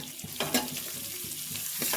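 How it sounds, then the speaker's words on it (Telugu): A small spoon stirs turmeric into tomato rasam in a pot, with soft scraping and swishing under a steady bubbling simmer, close by. "ఈ స్మాల్ స్పూన్తో పసుపు మళ్ళీ బాగా కలిపేసుకుందాము ఇవన్నీ"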